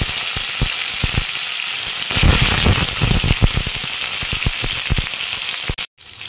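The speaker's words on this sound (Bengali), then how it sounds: "আম আর কাঁচা লঙ্কা তেলের মধ্যেই ছেড়ে দেবো।" Mango pieces and green chillies dropped into hot oil already holding dry red chillies and mustard seeds, producing a loud, close crackling sizzle that swells suddenly, keeps popping steadily, then cuts out briefly near the end.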